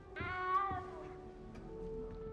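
A cat meows once in Hogwarts Legacy, a clear drawn-out cry near and alone, followed by faint ticking in a quiet game scene.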